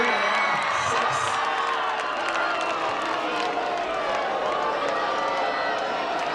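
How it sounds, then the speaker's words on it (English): Football crowd at a varsity high school game, American Fork at Bingham, cheering and shouting from the stands in a steady, continuous roar heard from a distance across the field. "As the crowd really gets into it down there, you can hear them."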